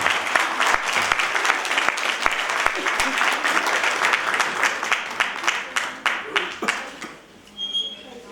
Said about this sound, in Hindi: ताली बजाएं।